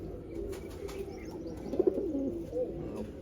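A newly released pair of pigeons, a red Chinese cock and hen, coo softly nearby in low murmuring phrases with a brief louder call near the end, under a faint background hum and no talk.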